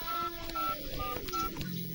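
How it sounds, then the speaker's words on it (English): Mobile phone keypad beeping as an emergency number is dialed, three or four short distinct tones spaced apart, close and clear, followed by a brief low hum. "I must call for help. A mobile phone. Emergency number"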